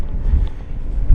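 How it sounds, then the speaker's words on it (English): Strong wind gusts roar steadily outdoors, a loud low rumble of wind buffeting the microphone with no speech. "It's super windy."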